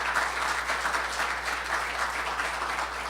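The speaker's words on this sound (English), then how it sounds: "Let's give them a big round of applause." A conference audience at a Roma diaspora panel gives sustained applause, a dense continuous clatter of many hands at even loudness throughout, with a low steady hum underneath and no talk.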